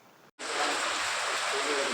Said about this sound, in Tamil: மழையை பாருங்கள் செத்த நேரத்தில் அடித்து ஊற்று ஊற்றுன்னு ஊற்றிக்கிட்டு இருக்கு